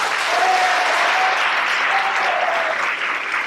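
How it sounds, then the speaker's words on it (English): Steady audience applause at an eighth grade awards program, a continuous wash of clapping throughout with faint voices beneath. "A round of applause for them, please."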